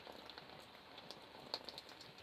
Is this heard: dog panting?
no